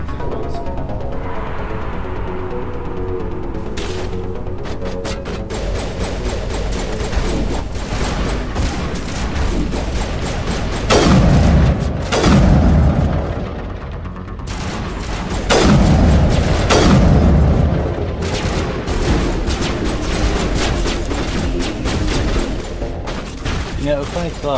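Explosions from demolition charges in a modded Mass Effect Legendary Edition game, heard as loud, dense, continuous blasts and rumbling booms with gunfire-like crackle, rising into heavier bursts partway through.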